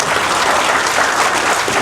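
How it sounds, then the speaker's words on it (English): Audience applause at a documentary screening event, a brief burst of loud, dense clapping from a full room. "Let's give her a round of applause."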